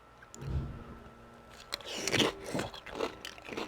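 Close, crisp crunching and chewing of Flamin Hot Doritos tortilla chips, several sharp bites followed by rhythmic munching, quiet and near with no talking.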